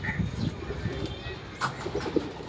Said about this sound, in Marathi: हे बघा लय कबूतर आहे आतमध्ये